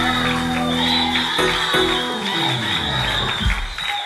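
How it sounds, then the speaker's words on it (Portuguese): A church congregation claps and calls out in celebration for a married couple, with shouts and whoops over steady applause that carries on throughout. "Vamos aplaudir aqui a nossa irmã Fernanda e o nosso irmão Valdemar."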